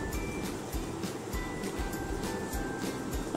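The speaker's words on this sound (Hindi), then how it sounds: "पानी का छींटा दिया है।" Onion and garlic frying in oil sizzle hard after a splash of water hits the pan, a loud, continuous close hiss with faint rhythmic pulses running underneath.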